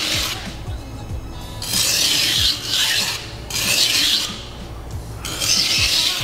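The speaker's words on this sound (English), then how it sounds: "Now we're going to deburr." A Nishida Kurouchi petty knife is deburred on a sharpening stone after chip repair, heard as long rasping strokes in four or five loud swells separated by quieter gaps, close up, with no talking.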